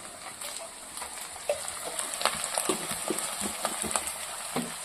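Ginger frying in a pan of mutton keema curry, a soft sizzle with scattered light stirring taps and scrapes close by, fairly quiet, no speech.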